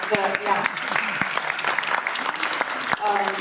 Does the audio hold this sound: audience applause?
yes